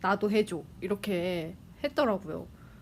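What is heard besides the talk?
No everyday noise stands out behind the speech.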